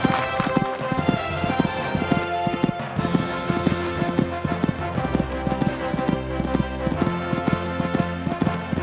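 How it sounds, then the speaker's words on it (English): A horse gallops a cross-country eventing course, its hoofbeats drumming in a quick, steady rhythm of repeated thuds over continuous background music. "Galloping along nicely now."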